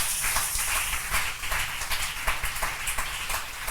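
Church congregation applauding together in acclamation of the name of Jesus Christ, a steady crowd clapping with dense overlapping claps throughout, fairly loud and continuous with no individual voices standing out.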